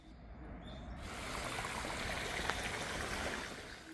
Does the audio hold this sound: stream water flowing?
yes